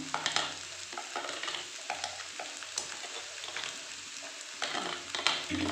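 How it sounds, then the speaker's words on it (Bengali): Finely chopped green peas go into a hot pan with ginger and green chilli, giving a soft continuous sizzle broken by close scraping stirs and light clatter from a spatula. "এর মধ্যে আমি যে মটরটা চপ করে রেখেছি, দেখুন এইভাবে এটাকেও দিয়ে দেবো।"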